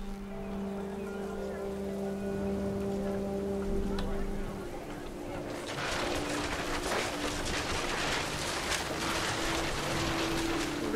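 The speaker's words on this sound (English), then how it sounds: "The rain came down in buckets then" Rain pours down in the video game What Remains of Edith Finch, a broad wash of hiss that swells noticeably midway and then stays heavy, over a low steady tonal hum.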